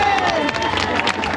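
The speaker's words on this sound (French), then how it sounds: "Applaudissements pour elle." A crowd at a Walibi Run race cheers and applauds a winner on the podium, a dense roar of clapping and shouts that stays loud and close through the short moment.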